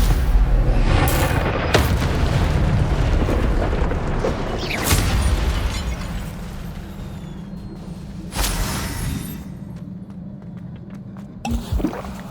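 Incendio fire spell blasts during a Hogwarts Legacy duel on PS5, several loud booming bursts and whooshes over a dense rumbling game soundscape, with a sharp crackling hit near the end.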